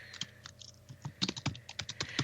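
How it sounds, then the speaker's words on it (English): Someone types on a computer keyboard nearby: quick, irregular clusters of keystroke clicks with short pauses and no speech. "So she's typing in."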